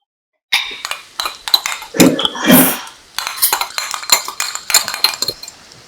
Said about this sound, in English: And then just muddle that through the pasta.